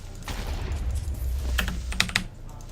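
Clattering keystrokes from a loud keyboard, with quick bursts of sharp clicks and a few heavier taps near the end.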